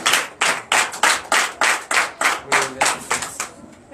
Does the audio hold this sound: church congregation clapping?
yes